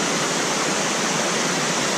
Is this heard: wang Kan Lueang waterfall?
yes